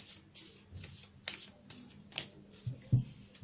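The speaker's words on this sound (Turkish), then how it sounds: "İyice bir karıştırayım." A tarot deck is shuffled by hand in quick, soft riffling bursts, a series of close papery flutters and taps over a few seconds.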